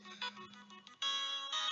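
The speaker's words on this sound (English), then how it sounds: "Yeah, that's my mother's ringtone." A mobile phone ringtone for an incoming call from the caller's mother plays as a bright harmonic electronic melody, quiet at first and then louder in a sustained chiming phrase.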